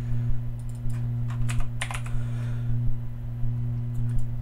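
Typing on a computer keyboard, a run of quick, close clicks and key taps over a steady low electrical hum.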